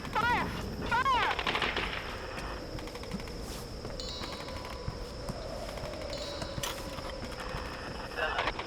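Gunfire in Tomb Raider (2013), a continuous rattling barrage of game shots and bursts over dense background noise. Players shout and talk over it throughout.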